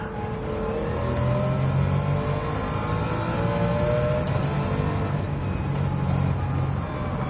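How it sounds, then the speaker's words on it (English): A BMW M3 with an inline-six engine in Gran Turismo 7 revs and pulls steadily, a smooth, continuous mid-pitched engine drone with gently rising tones, fairly loud and with no voices. "This car sounds great. Inline 6 is just purring."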